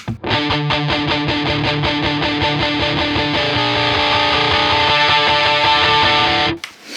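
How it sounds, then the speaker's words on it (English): Electric guitar with overdrive distortion plays a dense, continuous riff of rapidly repeated picked notes, loud and steady, before briefly dropping out near the end. "I then switch over to the overdrive distortion"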